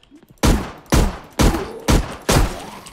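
Five sharp pistol shots fired at zombies in the game Dead Train crack out at an even, steady pace, each loud and close with a short decaying tail.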